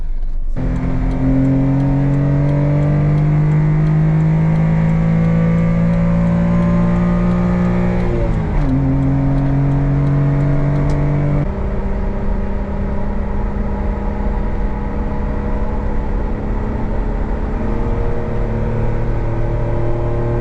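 A Honda Beat roadster drives with the top down, its small engine droning loudly and steadily with gear changes shifting the pitch, plus wind and road noise close by and no talk.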